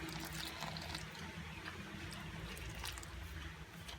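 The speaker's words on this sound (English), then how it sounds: "So I'm gonna add water in bits." Water added a little at a time to dry ingredients for Kenyan samosa dough, a soft close trickle and slosh with faint squishing, heard alone.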